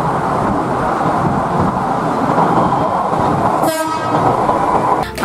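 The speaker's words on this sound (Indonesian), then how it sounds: "Wow, lihat di sini ada kereta cepat." A toy high-speed train gives off a loud, continuous rumbling whir, then cuts abruptly with a brief click near the end, alone without talk.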